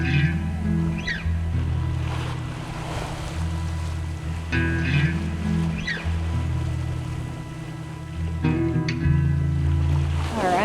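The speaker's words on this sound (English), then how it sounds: "getting to watch the ocean go by" Ocean going past a moving boat at sea, a continuous rushing wash of water with a low steady engine-like hum underneath, fairly loud and unbroken, no talking.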